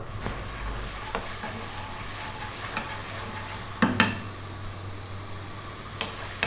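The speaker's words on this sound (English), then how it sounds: "Let's drop in our garlic and our ginger." Garlic and ginger hit a hot wok that earlier cooked sausage, giving a continuous close sizzle broken by a few sharp metallic clanks of a utensil against the pan.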